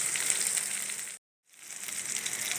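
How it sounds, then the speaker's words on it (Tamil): Small onions and dried red chillies fry in hot oil with a steady, loud sizzle that cuts out for a moment and then builds back up. "நம்ம போட்ட சின்ன வெங்காயம் வரமிளகாய் இதெல்லாம் நல்லா ஃப்ரை ஆகிடுச்சு."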